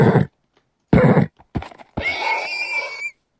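A synthetic video-game horse neighs and snorts in short bursts separated by silence, ending with a longer, pitched whinny.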